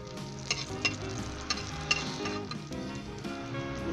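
Tinda, a round gourd, cooking in a pan with coriander and crushed red chilli, a continuous sizzle dotted with scraping stir clicks under steady background music.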